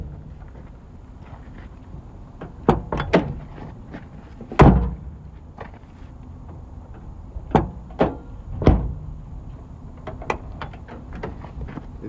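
Several sharp clunks and thuds of a Mazda Miata door with new Delrin bushings being worked open and shut, scattered irregularly over a quiet, windy background.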